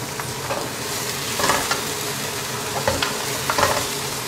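Long beans fry in an oily pan for a dry-fried bean dish, giving a continuous hissing sizzle with occasional louder bursts and stirring clatter.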